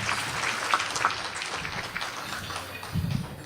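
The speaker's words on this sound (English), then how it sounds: "give a big round of applause" An audience at a chapter launch ceremony claps in a steady, moderately loud wash of applause that carries through with a few louder peaks and some low thumps near the end.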